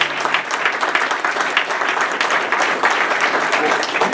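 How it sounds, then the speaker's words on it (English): A crowd at a Hilton Garden Inn podium event gives another round of applause, loud, dense clapping from many hands sustained without a break. "Let's give him another round of applause."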